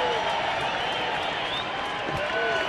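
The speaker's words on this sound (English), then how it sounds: "So a mock cheer comes up from the crowd." A baseball stadium crowd at an Oakland A's game against Detroit gives a mock cheer, a steady wash of distant cheering and clapping running under a commentator's voice.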